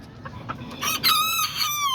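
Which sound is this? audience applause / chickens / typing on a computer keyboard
chickens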